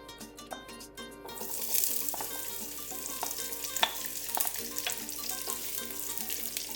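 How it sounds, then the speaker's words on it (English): Garlic sautés in olive oil in a pot on the stove, a steady loud sizzle with spatula stirring and scraping clicks; the frying gets hotter and denser after the first second and holds at the same level to the end. "add 5 tablespoons of olive oil, and sauté the garlic until fragrant"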